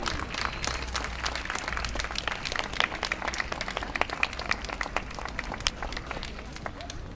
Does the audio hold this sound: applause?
yes